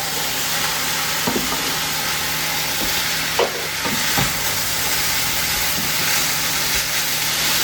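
Ground pork giniling sizzles steadily in a hot pan, a loud continuous frying hiss broken by a few scraping stirs of the spatula.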